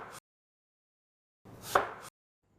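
A knife chopping mango in a home kitchen, heard as two short, close bursts of cutting with a sharp thud in the second, separated by silence.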